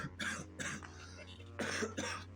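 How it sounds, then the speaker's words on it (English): A couple of close, fairly quiet coughs, a short pair followed after a pause by two more harsh bursts. "Sorry for that cough."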